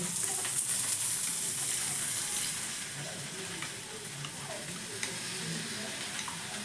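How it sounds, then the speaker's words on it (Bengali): Whole spices tempering in hot oil for a raita tadka, sizzling and crackling steadily as they are fried and stirred, close and continuous with faint stirring scrapes throughout. "বাস একটু ভাজা ভাজা হয়ে গেলে এবার এই তড়কাটা এই রায়তার মধ্যে দিয়ে দিলেই"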